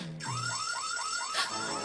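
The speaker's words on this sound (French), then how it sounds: "C'est une bonne chose d'avoir équipé cette machine d'une alarme anti-Sainte-Nitouche." A machine alarm in a Super Mario Bros cartoon rings out as a loud, rapid series of rising electronic warbling sweeps, repeating about five times within two seconds.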